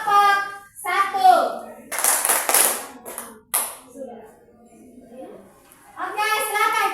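Classroom applause for a presenting student group, with brief bursts of hand clapping from the class between stretches of children and adults speaking.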